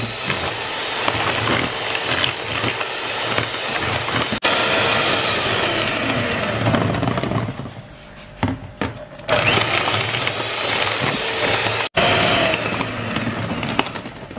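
Electric hand mixer beating eggs with granulated sugar for a three-egg roll cake batter, a steady loud whirring drone that runs almost continuously, with brief dips and pauses as the sugar goes in.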